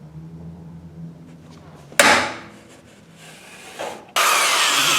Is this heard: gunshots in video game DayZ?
no